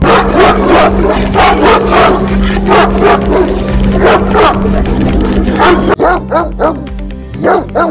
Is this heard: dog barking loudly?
yes